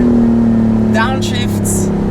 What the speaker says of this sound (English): and then straight instant petrol engine kicking in, and a very nice sound here.